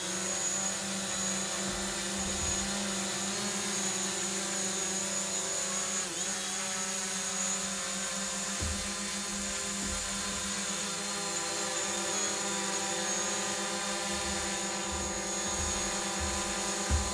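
DJI Mavic Pro quadcopter drone, flown for the first time, giving a steady high-pitched multi-tone buzz of spinning propellers that persists loudly and evenly throughout.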